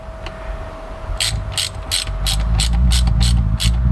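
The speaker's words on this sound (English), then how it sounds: "So I'll screw that on further this time" A socket ratchet clicking rapidly as a nut is screwed further onto a 240C Datsun during a repair, loud close bursts of ratcheting in a steady rhythm over a faint background hum.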